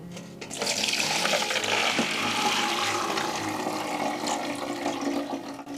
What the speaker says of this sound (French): Le lendemain matin, on va bien les rincer.